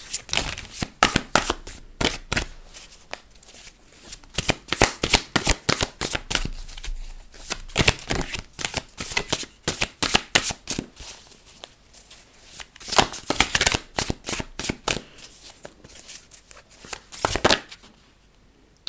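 Rapid riffling bursts of stiff crystal cards shuffled over and over, close up, with crisp flicks and short pauses between shuffles throughout.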